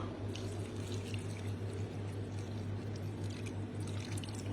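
A glass of water pours over baked fish with potatoes, cherry tomatoes, black olives and parsley, a continuous liquid splash under a steady low hum, without talk.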